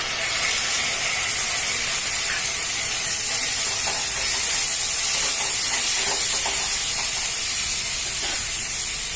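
Tomatoes hitting a pan of cooking onions set off a steady, loud sizzle and hiss that holds constant throughout, with faint scraping clicks scattered in the middle.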